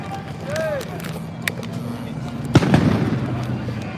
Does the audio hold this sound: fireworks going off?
yes